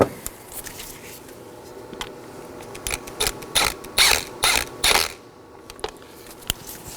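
A ratchet with a 10mm socket clicks in quick bursts of short strokes, close and crisp, pausing briefly between pulls as an ignition coil bolt is snugged down on a 1.8L Nissan Sentra.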